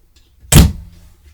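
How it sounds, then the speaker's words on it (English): A mirrored cabinet door in the half bath of a Vanleigh Beacon 39FBB RV is pulled open with a single sharp, close clack that fades quickly, alone in a quiet room. "You can pull open the door and get extra storage."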